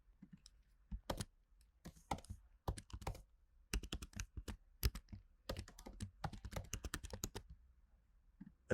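Quick bursts of computer keyboard typing while entering a password, crisp close keystrokes in short irregular runs separated by pauses.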